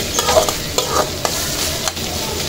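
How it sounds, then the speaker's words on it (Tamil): Masi dry fish masala sautéing in a pan, with several distinct spoon scrapes and stirs over a continuous close sizzle. "நல்லா இது வதங்கி அப்படியே ஒரு பொன் நிறமாக வரும், ப்ரௌன் கலராக."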